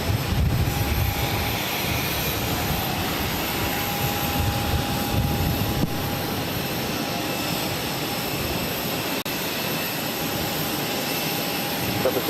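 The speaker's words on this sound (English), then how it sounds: "This Spirit A320neo will be taking off to Dallas Fort Worth" Spirit Airlines Airbus A320neo jet taking off from a runway at Boston airport, a sustained broad engine roar with a steady whine, loud and continuous throughout.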